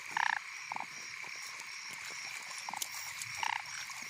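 Frogs croak in repeated bursts across rice fields at night in Laos, loud and close over a steady chorus of insects, with no voices.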